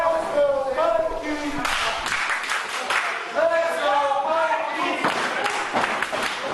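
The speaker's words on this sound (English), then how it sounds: "Crowd chanting, let's go Mikey." A wrestling crowd at an RWA Triple Crown Championship match chants in rhythmic waves, its voices rising and falling in repeated phrases beneath steady background noise.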